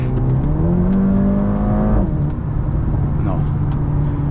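A 2019 Mercedes-AMG A35 with a 350 hp engine and automatic gearbox, in Sport Plus mode, pulls hard with a rising, loud engine note heard from inside the cabin. A shift near the midpoint drops the pitch before it climbs again.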